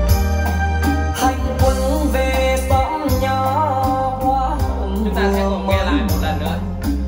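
A song plays back from the 3.5 mm headphone jack of a mobile phone, heard as full, steady recorded music with dense harmonic layers and a continuous beat, loud and alone with no talking.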